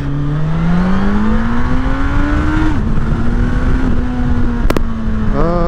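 A Suzuki GSF 1200 S Bandit motorcycle with its factory exhaust roars loudly and close up, its engine note climbing steadily under throttle, dipping briefly, then rising again in quick revs near the end.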